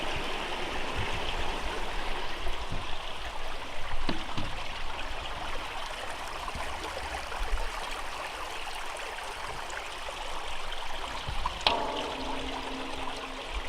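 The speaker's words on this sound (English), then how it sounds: "Creek is running good, so the falls should be pretty nice today" A creek near Morgan Falls in Wisconsin, winding through woodland, rushes and burbles steadily, close by and continuous, with a few small knocks and a brief splash near the end.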